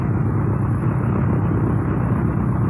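A C-53A transport helicopter towing an escort destroyer, heard as a steady, loud low-frequency rotor and engine rumble that holds without a break and carries no voices.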